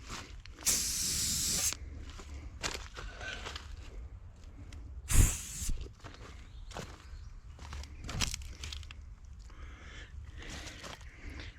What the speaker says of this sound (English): You got to get some hairspray.